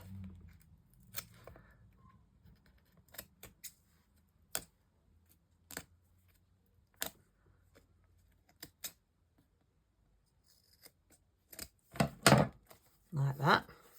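Scissors trimming a composition notebook cover in close, sharp snips, spaced irregularly and then clustering into a quick flurry near the end, with a person talking between cuts.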